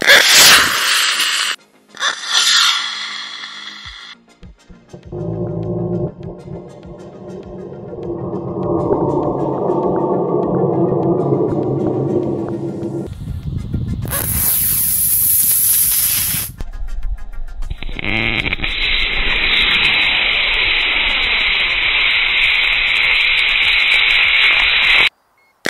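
Firefox SHX model rocket motor igniting and launching: a brief crackle and hiss, then a loud sustained rushing roar, a sharp bright burst and a long broad hissing roar as it climbs, ending abruptly.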